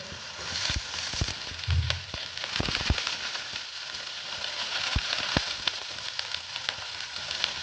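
Cauliflower florets hitting a hot pan while cooking a Bengali spinach dish, with a steady loud sizzle and scattered sharp crackles and pops running throughout, close up with no talking.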